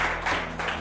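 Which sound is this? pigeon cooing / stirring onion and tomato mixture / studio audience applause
studio audience applause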